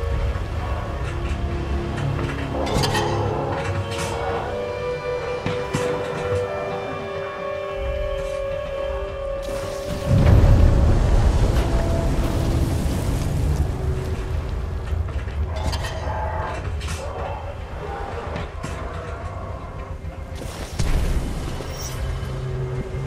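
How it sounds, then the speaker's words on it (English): Heavy booming explosions in the video game Titanfall 2, a loud low rumbling blast about midway followed by crackling debris and further bursts, with sustained mechanical din throughout. "Series of explosions just weakened the manipulator arm"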